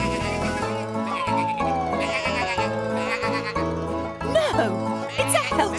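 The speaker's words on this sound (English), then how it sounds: "It's the sheep." A cartoon sheep bleats over bright background music in a children's tractor show, its wavering voice rising and falling across several calls, with a siren-like slide partway through.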